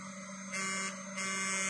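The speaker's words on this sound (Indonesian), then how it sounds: "Ini tuh suara kipasnya kencang banget loh." A motorcycle LED headlight's built-in cooling fan runs with a steady electrical whine and hum, while a brighter hiss rises and drops in two short surges. It plays alone with no talking.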